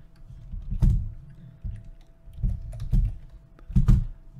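Fingers type a password on a computer keyboard in irregular bursts of close, crisp key clicks separated by short pauses, with no voices.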